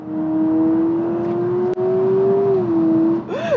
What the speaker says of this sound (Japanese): めちゃくちゃブリッピングしましたね。